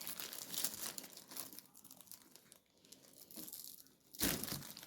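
Plastic packaging holding eight frozen beef burger patties crinkles and rustles close up in irregular bursts, with a louder crackle near the end and no talking.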